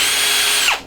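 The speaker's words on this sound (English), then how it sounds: "Now to drill a hole." A power drill whines steadily at high speed for under a second while drilling a hole in wood, then winds down as it stops.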